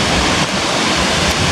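Broad, steady roar of a large Icelandic waterfall heard up close, a continuous dense rush of falling water with wind buffeting the microphone, no voices over it.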